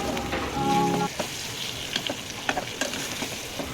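Pieces of pangas fish sizzle and fry with spices in a pan, with a steady crackling hiss, a brief humming tone early on, and scattered stirring clicks and scrapes, close and fairly quiet.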